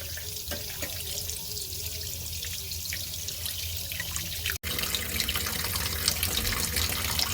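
Tap water runs steadily into a sink while fish for Singari-style fish are scrubbed clean with a fish brush, a continuous close rushing splash with a brief break midway before the flow resumes.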